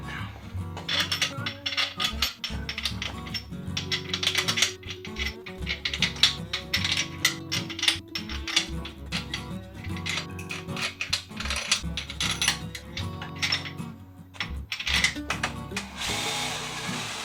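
Ratchet and tools working bolts back into a Small Block Mopar engine, with rapid clicking, metallic clinks and clatter in irregular bursts throughout, close and fairly loud, with occasional speech.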